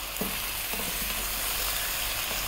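Beef with pepper and garlic fries in a pan over medium heat, a constant close hiss broken by light scrapes and clicks as it is stirred often.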